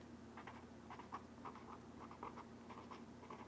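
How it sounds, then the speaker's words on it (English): A blue pen writes tasks into a paper planner, soft close scratchy strokes coming in short rhythmic bursts with brief pauses between words, faint and quiet. "I'm going to go ahead and write those tasks in, and let's try the blue"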